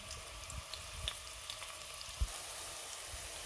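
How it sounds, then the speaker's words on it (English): Onions frying gently in a small amount of oil give off a soft, even crackling hiss, quiet and steady, with a faint knock or two partway through and no speech. "So as you can see, the onions are cooking"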